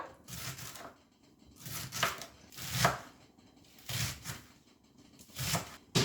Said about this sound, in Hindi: तो अब हम स्प्रिंग अनियन को चॉप करेंगे।